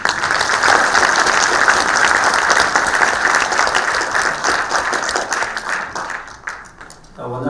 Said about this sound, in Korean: 홍성만 원장님께 다시 한번 큰 박수